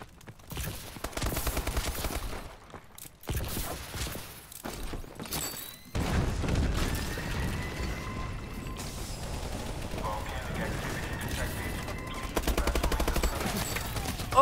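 Automatic weapon fire in Call of Duty: Advanced Warfare comes in loud, sustained bursts that briefly stop and restart, mixed with mechanical clanks and thuds, while a voice talks faintly underneath.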